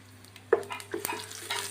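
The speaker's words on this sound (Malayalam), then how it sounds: "ഇതെല്ലാം കൂടെ നല്ലവണ്ണം ഫ്രൈ ആക്കി എടുക്കാം." Whole spices with garam masala, cinnamon, cloves, cardamom and bay leaf being stirred in a pan for ghee rice and beef kurma, giving a sharp clink of a spoon followed by soft scraping and light sizzling.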